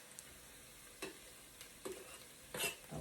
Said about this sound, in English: Now I'm going to put in the chopped garlic, the 10 little cloves of garlic that I have.